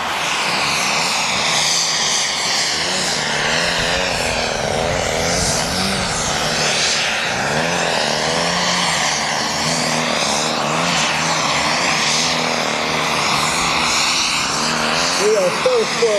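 A steady, loud whine of a small high-revving rotor engine fills the whole stretch, shifting in pitch as a radio-controlled Mikado model helicopter maneuvers during an air show demo, with an announcer talking over it.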